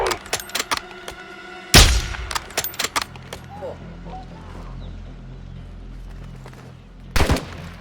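Gunfire from the video game Call of Duty Modern Warfare 2 campaign on the hardest difficulty, with rapid bursts of shots, two loud blasts standing out, and a low rumble between them; a voice talks over it.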